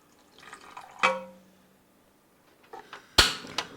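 Veggie bouillon diluted in water splashes into a deep pot in a few short bursts, with sharp drips and splashes separated by quiet pauses, close and fairly soft.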